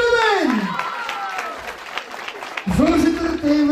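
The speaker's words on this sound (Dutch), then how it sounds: "een warm applaus voor Nicole Spillemijn!" Warm audience applause at the announcement of a youth election in Winksele-Delle, Herent, Vlaams Brabant, a steady wash of clapping with voices and tonal sound over it that fades, then swells again.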